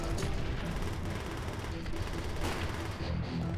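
Rockets and gunfire in Call of Duty: World at War, a dense, continuous wall of explosions and rattling shots with shouted game voices mixed in.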